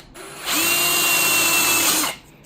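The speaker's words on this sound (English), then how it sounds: "I'm going to drill" A power drill bores a hole along a pencil-marked line, running steadily at high speed for about a second and a half, close and loud, with no talking over it.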